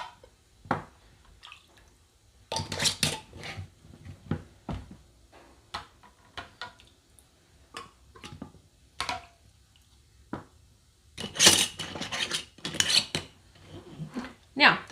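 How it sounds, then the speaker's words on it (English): Metal rings and lids are screwed finger-tight onto glass canning jars packed with hamburger meat, giving bursts of clinking, scraping and rattling metal-on-glass handling noises with short quiet gaps, close and fairly loud. "now I'm going to put my rings and lids on"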